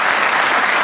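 An audience at a comedy show in Cameroon applauds, a loud, dense wash of many hands clapping at once, steady and close, with no pause in it.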